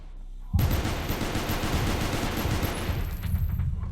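Rapid bursts of gunfire crackle in Space Station 14 after a brief quiet start, a dense, loud, continuous fusillade of shots that keeps going to the end.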